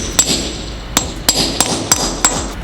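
Sharp hammer blows on a 3/8 grommet setter resting on an anvil, six loud metallic strikes at uneven intervals, each with a short ringing decay, no voices.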